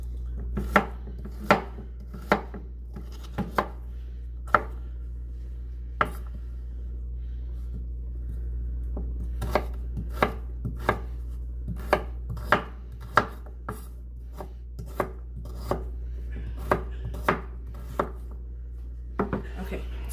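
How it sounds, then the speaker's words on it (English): A knife chops a turnip on a cutting board, sharp crisp knocks coming in irregular bursts, sometimes quick runs and sometimes single strikes, close and clear over a quiet low hum. "so that's one turnip chopped"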